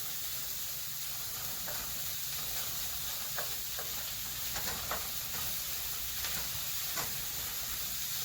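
Onion sizzles as it browns in a pan, a steady soft hiss of frying with faint crackles, no voices.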